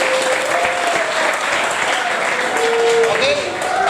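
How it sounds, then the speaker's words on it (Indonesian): A school audience in Kaimana, West Papua, gives sustained applause, a dense even roar of many hands clapping from start to finish, with faint voices mixed in. "Tepuk tangan dulu buat kalian semua."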